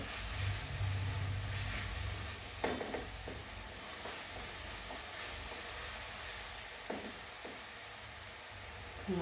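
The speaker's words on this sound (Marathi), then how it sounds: "थोडं तेल सुटायला लागलं त्याला आता मसाल्यातच आपण परततोय" Masala sautéing in oil for chole: a constant close sizzle and hiss of frying spice paste, with a few sharp scraping clicks of a spoon against the pan, no voices.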